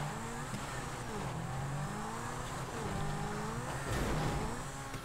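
Car in GTA driving hard and revving, with a steady engine roar and shifting pitch throughout and a rougher burst near the end, no voices.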